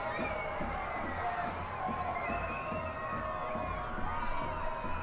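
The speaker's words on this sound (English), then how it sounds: "Crowd tries to get behind their Las Vegas Lights." A soccer stadium crowd roars steadily behind the Las Vegas Lights during a match against Orange County SC, a dense continuous wash of cheering and shouts held at a constant level throughout.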